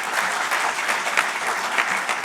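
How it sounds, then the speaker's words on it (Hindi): Dense audience applause at a medical conference hall, continuous clapping at steady loudness throughout the short stretch. "इनके लिए ताली बजाना चाहिए कि वास्तविकता ही है।"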